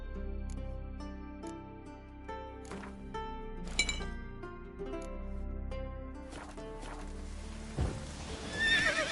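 A horse in The Witcher 3 video game whinnies several times over clip-clopping hooves, with light clinking accents, then the sound swells into a louder rushing burst at the end.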